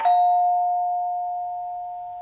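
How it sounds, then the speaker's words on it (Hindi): A single electronic doorbell chime strikes once, then rings out as a steady, pure tone that slowly fades, close and alone. "डोरबेल की आवाज बजी"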